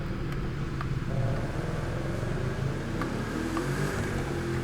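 A new Bugatti Chiron's engine note in the racing game The Crew 2, a steady broadband drone with low rumble that holds throughout, with no speech over it.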